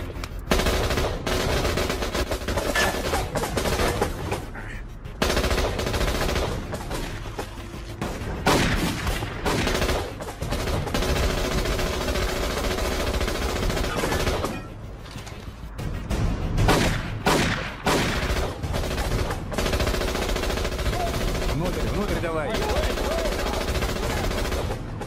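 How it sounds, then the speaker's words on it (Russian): Dense bursts of automatic gunfire and single shots crack almost continuously through an action-film firefight, loud and close with brief lulls, with shouted voices now and then under the shooting. "Они же нас стреляют"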